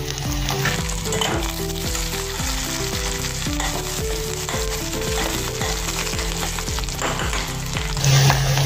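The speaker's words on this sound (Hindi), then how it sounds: "अभी इसमें हम कड़ी पत्ता डालेंगे और हरी मिर्च भी डाल देंगे।" Curry leaves and green chillies frying with softened onions in a pan, a steady close sizzle and crackle with rhythmic stirring thumps throughout and no talking.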